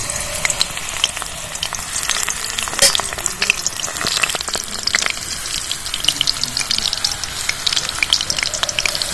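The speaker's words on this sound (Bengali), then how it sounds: "কড়াইতে তেল দিয়ে দেবো। তেলটা খুব ভালো করে গরম করে নিয়েছি। বেগুনগুলো সাজিয়ে দেবো।" Aubergine slices fry in well-heated oil in a wok, a steady dense crackling sizzle with scattered pops running throughout, close and fairly loud with no talking.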